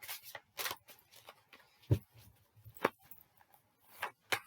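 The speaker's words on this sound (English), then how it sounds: "let's just do another couple of quick shuffles" Several quick bursts of tarot cards being shuffled and riffled, crisp and close, with light taps and rustles in between, no talking.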